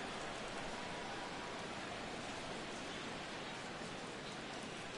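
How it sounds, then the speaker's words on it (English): Steady, even hiss of rain falling throughout a baseball game in the MLB 17 video game, a constant broadband wash with no distinct drops, no speech, and a fairly quiet level. "Rain continues to fall here in the 6th."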